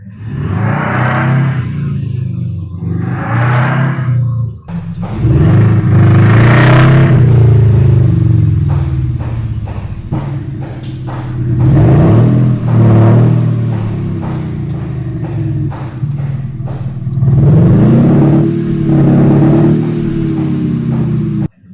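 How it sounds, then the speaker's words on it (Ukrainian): A Mercedes-Benz GLE Coupe hybrid (C167) revs repeatedly through a MAXHAUST electronic exhaust system, loud rising and falling roars with throaty rumble and crackle, close up. "Ми на нього встановили електронний вихлоп Paxhouse, і тепер він звучить дуже круто."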